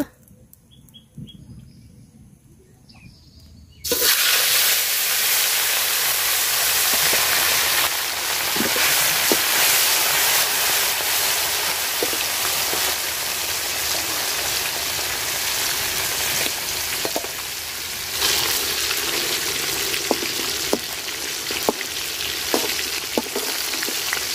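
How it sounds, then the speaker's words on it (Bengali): Fish sizzles loudly as it fries in hot oil in a cooking pot, a dense steady crackle starting abruptly after a quiet moment and continuing with occasional pops and stirring clinks. "তেল দিয়ে দিলাম পাতিলে মাছ ভাজার জন্য"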